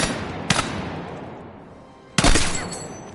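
M277 carbine firing hollow-point rounds in Battlefield 6: a short crack, then a louder burst a moment later that rings out and fades, close and without talk.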